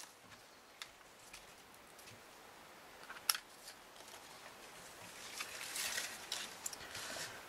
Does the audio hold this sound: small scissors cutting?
yes